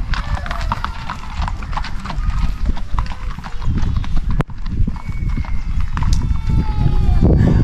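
Horse hooves clip-clop in a steady stream of sharp knocks at a campsite, close and loud, with people talking and other outdoor noise underneath.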